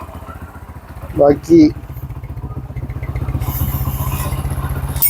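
A Hero Honda CD100SS motorcycle idles after a cold start with a steady, close, rhythmic thump. Someone briefly speaks over it near the start.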